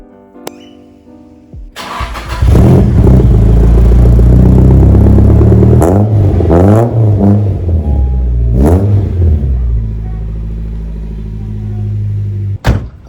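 Nissan Silvia S14 starting up and then backing into a driveway, the engine catching after a crank and rumbling loudly nearby with several short revs rising and falling, plus a sharp knock at the end.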